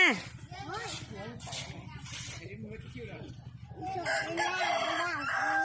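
Chickens cluck and a rooster crows at a home where cement is being poured at a driveway entrance, with repeated crowing calls rising over steady clucking, while people talk nearby throughout.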